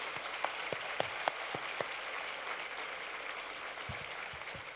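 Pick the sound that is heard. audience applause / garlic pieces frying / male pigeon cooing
audience applause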